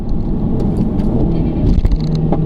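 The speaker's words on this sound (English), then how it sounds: "Obviously in sport mode you get rev matching." A Mini Cooper S with a standard gearbox, driven in sport mode with rev matching, gives a loud, close engine rumble and roar that holds steady without a clear rev spike.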